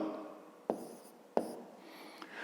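A pen writes on paper while a 5th-grade maths exercise is worked through, giving two sharp tap-like strokes and a faint third over a quiet, soft background scratch.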